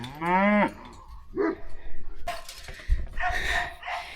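Hungry farm cows: one loud, rising moo sounds close at the start, then a fainter bovine call and talking follow over quiet outdoor background.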